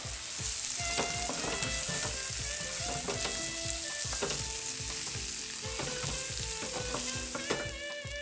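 A veal cutlet fries in a frying pan with a dense, steady sizzle and crackle, close up and continuous, punctuated by light pops and scraping, with no talking.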